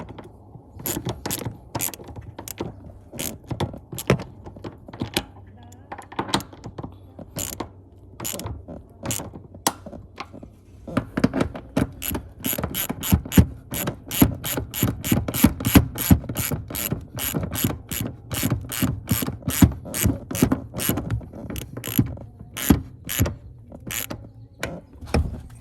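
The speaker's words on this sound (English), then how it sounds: "now you're gonna tighten it up." A ratchet wrench clicks repeatedly while tightening seat jacker bolts in a Toyota Tacoma, slow irregular clicks at first, then a long fast run of sharp, close ratcheting.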